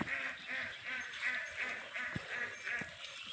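Farm ducks quacking in a repeated, rhythmic chorus at moderate distance, steady calls recurring every half second or so over faint background noise, with a brief low thump or two.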